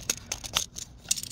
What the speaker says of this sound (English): let me get this tape measure set up